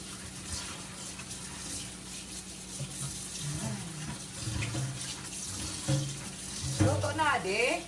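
Hot water runs steadily from a kitchen tap in a cold winter home while food is cooked, a constant hiss and splash with some clinks and a faint voice nearby.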